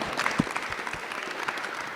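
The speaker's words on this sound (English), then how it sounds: "please join me in giving a big round of applause to our panelists this evening" An evening summit audience applauds agtech startup panelists with a brief patter of clapping. The applause is moderate and fairly distant, with no one talking over it.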